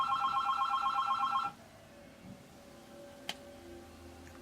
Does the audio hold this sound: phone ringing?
yes